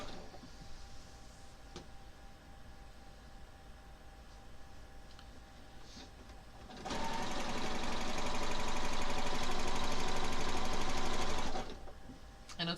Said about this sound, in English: I'm going to finish this seam.